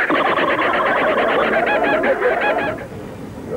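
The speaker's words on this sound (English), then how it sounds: "Look, a laughing kookaburra." A laughing kookaburra calls in a loud, continuous rolling chorus of cackling, chuckling notes that rises into hooting bursts, then breaks off abruptly near the end, with no talking over it.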